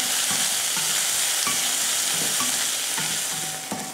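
Chopped onions sautéing in a pan for a Tamil-style lentil chutney, giving a steady, close, loud sizzle with soft scraping stir strokes now and then. No voices are heard.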